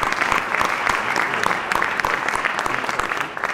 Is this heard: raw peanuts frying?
no